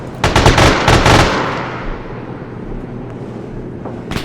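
Video game gunfire volley: a close, loud burst of rapid shots in quick clusters, followed by a long rumbling echo that fades, with a faint extra shot at the very end.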